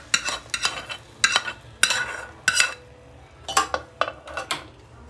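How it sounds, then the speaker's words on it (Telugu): Tamarind rice (pulihora) being stirred and mixed in a pot, a series of scraping, clattering spoon strokes against the metal in an uneven rhythm, close and fairly loud, with no talking. "వేసేసుకొని దీన్ని బాగా మిక్స్ చేసుకోవాలన్నమాట"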